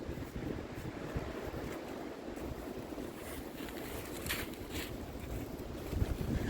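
Strong, steady wind gusting outdoors during a stormy spell, a continuous broadband rush with low rumbling buffeting close to the microphone and no voices.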